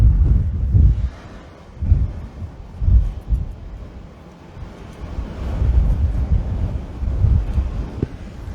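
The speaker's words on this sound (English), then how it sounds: "It's gusting out here. Very, very strong wind conditions." Strong gusting wind buffeting a microphone outdoors at sunrise, deep rumbling bursts that swell and fade in irregular waves, loud and close with no other sound.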